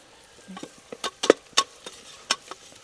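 Masala with a piece of Maggi stock being stirred in a pan for Arabian chicken madhooth, giving soft scattered scrapes and taps with a faint sizzle, quiet and close with no talking.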